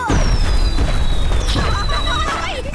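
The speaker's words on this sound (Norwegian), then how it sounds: "Fyrverkeri til alle, for de er rå." Fireworks explode in a cartoon, a loud dense burst of booms and crackles with whistling streaks, close and continuous throughout.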